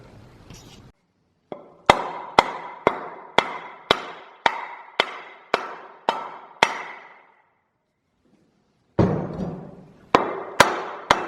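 A socket axe head is driven onto its wooden handle with about a dozen sharp, evenly spaced whacks, each ringing briefly, then a short quiet pause and a few more strikes with scraping in between.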